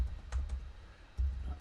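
Soft clicks from a computer keyboard as an email address is typed, a few quick irregular keystrokes close by in a quiet room.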